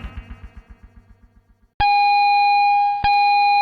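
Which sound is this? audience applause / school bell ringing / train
school bell ringing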